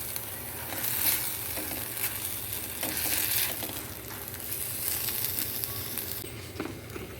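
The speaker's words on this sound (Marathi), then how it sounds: "त्यामध्ये आता मी किसून ठेवलेली कैरी घालून घेते." Grated raw mango sautéed in hot oil gives a steady, close sizzling and crackling that runs the whole time with faint stirring and no talk.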